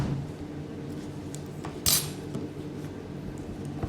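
A knife cuts food against a plate during home cooking, faint scraping and tapping with one sharper clink midway, set against a soft, steady background hum.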